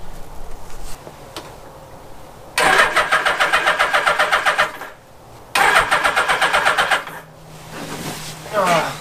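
The engine of a GS850 Scrambler motorcycle is cranked in snow with two long bursts of rapid, rhythmic starter churning. Each burst lasts about three seconds and is loud and close, with quieter gaps between.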